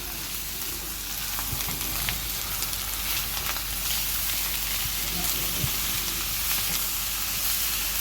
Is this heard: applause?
no